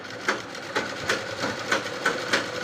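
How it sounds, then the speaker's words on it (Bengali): A sewing machine stitching a small dress for a Gopal figure, with a steady run broken by regular mechanical clicks about every half second, close by and with no voices. "আমি বড় গোপুসোনার জন্য একটা ড্রেস সেলাই করছি"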